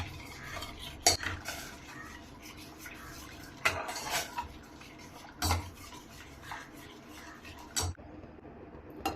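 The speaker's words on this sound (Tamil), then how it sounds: "நல்லா கைவிடாமல் கலந்து விட்டுட்டே இருக்கணும்." A spoon stirs black kavuni rice porridge in a pot, with several distinct scraping knocks against the metal at irregular intervals over a soft, continuous background.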